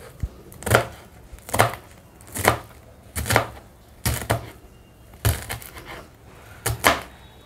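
A knife chops vegetables into small pieces on a board with about nine sharp, evenly spaced strikes, each a crisp knock followed by a short scrape, close and clear with quiet pauses between them.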